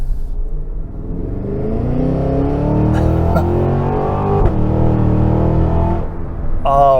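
A 2023 Cadillac Escalade V with a 10-speed automatic accelerates on a night drive, a loud interior engine drone climbing in pitch, dipping at a smooth gear change, then building again.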